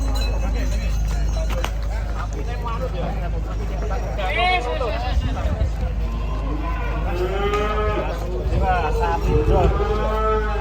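At a cattle show, a giant cow being unloaded from a truck lets out several loud, drawn-out moos, rising and falling in pitch, amid a crowd whose talk and shouting carry on underneath.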